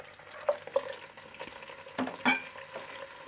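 Chicken pieces hit warm oil with whole garam masala in a pan for Bihari chicken korma, giving a soft, faint sizzle broken by a few brief stirring clatters.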